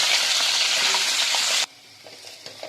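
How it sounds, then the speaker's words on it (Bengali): Potatoes fry in oil with a loud, dense crackling sizzle that cuts off abruptly partway through, leaving faint clinks and a quieter hiss. "এবারে আমি এই তেলের মধ্যে আলুগুলোকে ভেজে নিই"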